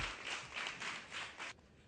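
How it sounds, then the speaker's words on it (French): Brief scattered applause from a small audience, a few seconds of light clapping in uneven bursts that stop abruptly, faint and somewhat distant. "Il faut l'applaudir"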